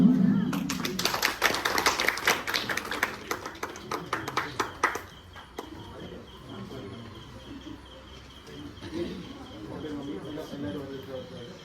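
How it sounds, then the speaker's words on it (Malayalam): Guests at a wedding feast clap together in a burst of sharp, dense claps that fade out after a few seconds, leaving a murmuring crowd and voices in the background. "എല്ലാവർക്കും കൈയടിക്കാം"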